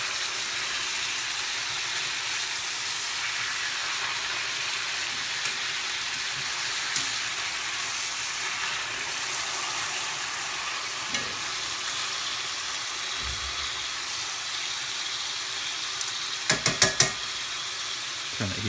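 Chicken breasts sear in a hot pan with a steady, soft sizzle and crackle. A few light clinks of a utensil against the pan come near the end, with no talking.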